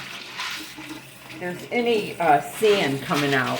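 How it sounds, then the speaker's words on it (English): Running water from a kitchen sink tap splashes over dried beans being rinsed, a steady close wash heard beneath a person talking. "and then you want to rinse them. And you can kind of see when you rinse them in the sink"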